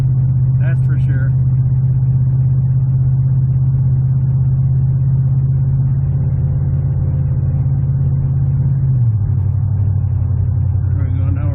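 A 1998 Dodge Durango engine pulling a trailer while towing drones with a loud, steady low rumble from inside the cab, its pitch dropping near the end as it shifts into overdrive; a person talks over it.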